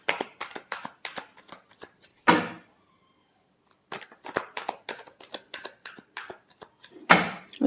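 Tarot cards are shuffled by hand in brisk bursts of papery flicks and slaps, close and fairly loud, with a long quiet gap between rounds.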